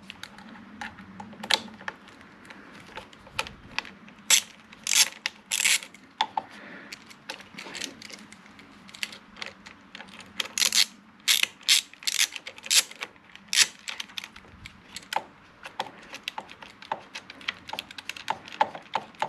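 Screws being removed from the throttle housing of a KTM Duke 890/790 motorcycle while fitting heated grips, heard as a dense run of close, sharp ratchet clicks and small mechanical taps with no talk.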